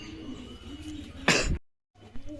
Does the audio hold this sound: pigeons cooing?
yes